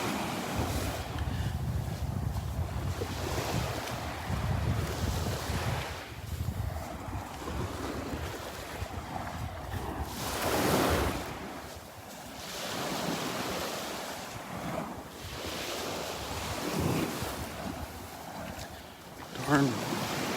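Ocean surf washing onto a beach at Delnor-Wiggins near high tide, a steady broadband wash with surges swelling and fading every few seconds, mixed with wind rumble on the microphone.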